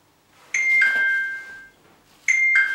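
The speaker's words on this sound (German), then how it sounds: "Oh, hat geklingelt." A two-tone electronic doorbell chimes twice at home, each ding-dong ringing clearly with a lingering tone, separated by a short pause.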